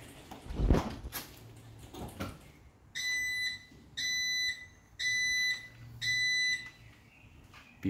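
After a few clunks and knocks, an electronic alarm beeps four times for a force test, in even, evenly spaced bursts, sharp and fairly close.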